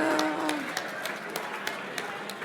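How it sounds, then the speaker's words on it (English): Applause from an audience at an awards gala, a steady, fairly quiet wash of clapping heard from some distance, with a few sharper individual claps standing out. "Applause, please."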